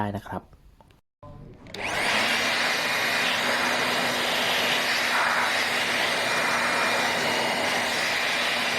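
Air blower blasting dust out of an AILITE dehumidifier cabinet during repair, a loud steady rushing roar that starts after a brief quieter stretch and a short gap, then holds continuously to the end.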